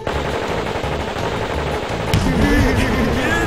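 Cartoon machine gun fire in a Chicken Stew battle in Grape Valley: loud, rapid, continuous bursts that never pause, shifting to a heavier, rumbling barrage partway through.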